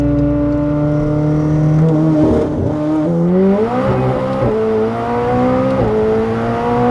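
A tuned 2021 McLaren 765LT accelerating hard on the street, its engine note climbing loudly through the revs with quick dips at gear shifts, a close, continuous roar with no talking.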